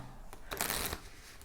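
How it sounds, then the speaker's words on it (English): A deck of playing cards riffle shuffled as a card trick is prepared, giving one brisk burst of fluttering, crackling card edges about half a second long, close and clear, with quieter taps before and after. "Then what I like to do is a riffle shuffle, making sure not to flash the bottom card, but keeping it at the bottom."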